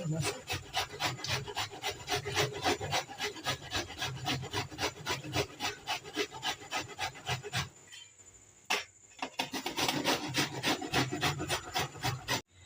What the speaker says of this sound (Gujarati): આપણે હવે કોબી છીણી લીધું છે